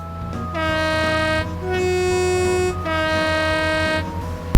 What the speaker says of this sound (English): A very loud horn, need I add.